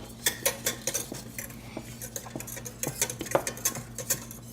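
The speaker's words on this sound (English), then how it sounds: "And I'm going to give this a stir while you're stirring this," A utensil stirs lasagna sauce in a pot, making repeated close scrapes and clinks against the metal at an uneven rhythm, with no talk.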